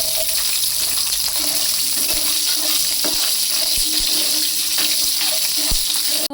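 Shallots and garlic frying in a pan, a loud continuous sizzle with scattered clicks and scrapes of stirring close up, no talking.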